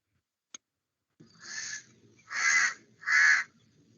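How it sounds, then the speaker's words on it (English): A crow caws three times in a row, close and fairly loud, the calls stretched and harsh, after a single brief click and a low background rumble. "Thank God this witty crow has come."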